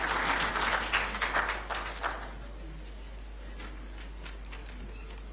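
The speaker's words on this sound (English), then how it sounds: "Shall we welcome her with a clap," An audience at a formal gathering in a presidential residence claps to welcome a speaker to the podium; a burst of dense applause fades within about two seconds, leaving a few faint scattered claps over a low steady hum.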